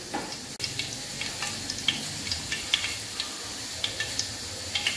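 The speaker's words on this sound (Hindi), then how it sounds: "अब मैं इसके अंदर चिकन टॉफियों को फ्राई करूंगी।" Chicken potato toffees frying in hot oil in a kadai, giving a steady soft sizzle with small scattered pops and crackles, close and fairly quiet, with no voices.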